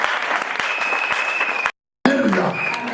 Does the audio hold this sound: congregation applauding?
yes